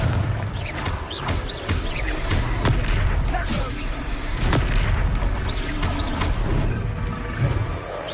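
The Confringo blasting spell exploding in the Hogwarts Legacy video game, a series of loud, booming blasts and crashes over a constant rumble of battle noise.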